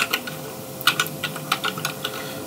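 Fingers type on a computer keyboard in short uneven bursts of crisp, close clicks over a quiet background hum, with no talking.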